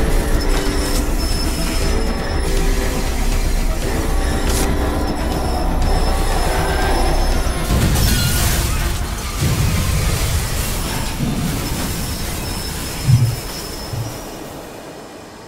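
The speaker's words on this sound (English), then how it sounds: "Stop the fucking train." A train in the Poppy Playtime Chapter 2 horror video game rumbles loudly and continuously, with clattering wheels and metallic squeals over a heavy low drone, and no talk over it.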